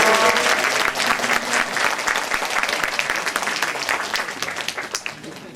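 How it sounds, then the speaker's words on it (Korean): An audience at a high school event at Guro High School applauds loudly and steadily, a dense wash of clapping that slowly fades. "힘찬 박수 맞으십시오"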